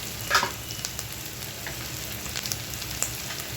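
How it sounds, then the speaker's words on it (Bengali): Dried fish coated in turmeric and chili powder frying in a pan, a dense, even sizzle with a few soft stirring knocks near the start, close and moderately loud, no speech. "সুন্দর করে নেড়ে চেড়ে আরও ভেজে দিচ্ছি"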